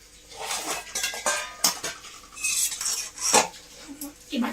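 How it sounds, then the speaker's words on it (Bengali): Meat and potato pieces are spooned from a pot into a bowl in a home kitchen, with close metallic clinks and scrapes of the spoon against the dishes coming in short irregular bursts, and no speech. "এই বাটিতে মাংস দিয়ে দিচ্ছি ওকে।"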